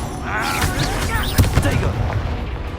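Explosive Confringo spell blasts in the Hogwarts Legacy video game, a few sharp booms over a busy backdrop of battle noise and continuous talk.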